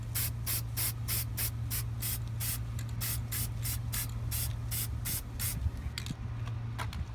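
Rust-Oleum metallic copper spray paint hisses from an aerosol can onto aluminum parts in a rapid series of short, evenly spaced bursts, close and loud over a steady low background hum.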